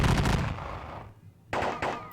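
Musket volleys from grenadier infantry in a Seven Years War strategy game by John Tiller Software: a long crackling burst of gunfire, then two sharper shots after a brief lull.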